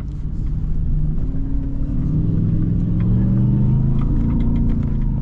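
A first-generation Ford Raptor truck passes on sand dunes, its engine rumble rising and shifting pitch as it revs, loud and close, heard from inside another vehicle with no talk.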